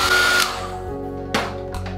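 Electric hair dryer or heat gun blowing over a wet watercolour landscape painting, a steady close whirring drone running through with brief louder swells as it is moved around the paper.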